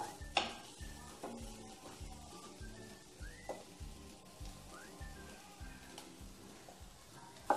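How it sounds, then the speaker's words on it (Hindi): Onions frying in ghee give a soft, crackling sizzle under a series of quiet, regular stirring scrapes and light clinks of a utensil against the pan. "अब हमारे प्याज हल्के से फ्राई होने लग गए हैं।"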